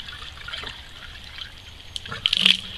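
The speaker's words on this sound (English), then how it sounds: "I've just got a watering jug, and I'm just going to fill it up" Water trickling from a watering jug into an RV water line, a light dribble that builds to a louder, gurgling splash near the end, close by with no talk.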